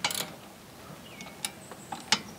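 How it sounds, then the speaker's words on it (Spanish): A 5/8 wrench loosening a rear brake caliper bolt on a Volkswagen Mk4 during a brake pad change, with a short burst of metallic ratcheting at the start followed by a few faint, scattered clicks and scrapes. "lo que vamos a hacer es seguir soltándolo"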